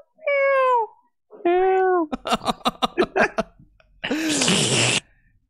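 Two drawn-out, wavering meows, then a rapid string of short yowling yelps, and finally a harsh rasping cry. A voice imitates discordant cat-like mewling, loud and close with brief pauses between calls.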